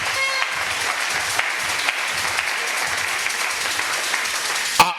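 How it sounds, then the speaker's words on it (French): A church congregation applauds loudly and steadily for the Lord Jesus, dense continuous clapping filling the room for several seconds before a sharp peak at the end. "Nous acclamons très fort le Seigneur Jésus."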